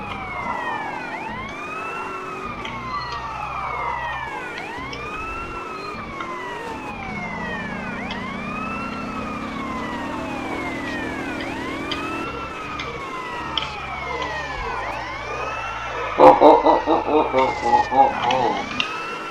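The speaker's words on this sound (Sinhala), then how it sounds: "සයිරන් එක දාලා යන්න ගියාම ෆ්‍රෙන්ඩ්ස් අපිට ඉඩ දෙනවා ඇත්තටම" A police car siren from the video game GTA San Andreas wails in repeated rising and falling sweeps, loud and close over engine noise, with a burst of clattering impacts near the end.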